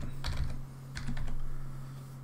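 Keys clatter on a computer keyboard as an object name is entered in code. The typing comes in two quick close bursts over a low steady hum.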